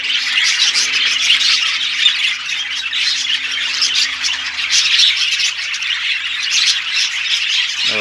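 Pearl mauve fallow parrots squawk continuously and loudly at close range, a dense harsh chorus of overlapping calls with no pauses and no talking.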